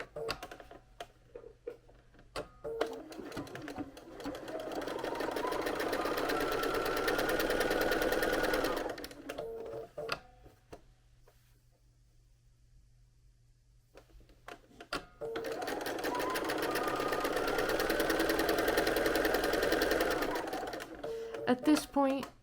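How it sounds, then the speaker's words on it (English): A sewing machine stitching quilt fabric pieces together, running in two steady buzzing bursts of several seconds each with a quiet pause between, with faint clicks around the starts and stops. "now we're going to bring our machine back and sew these together"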